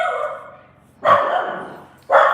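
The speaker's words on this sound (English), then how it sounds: "Whoops, there goes my dog." A small cavoodle dog barks twice in sharp, loud bursts close by, with a brief pause between them and no talking over it.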